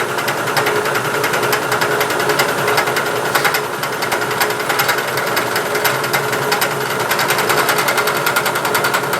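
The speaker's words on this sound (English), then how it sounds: "like to climb mill with a fly cutter because it leaves a nice clean edge around the part" A fly cutter climb milling a slightly carbon-bearing steel part on a milling machine gives a continuous, steady whirring grind with a fast rhythmic ticking, even in loudness throughout.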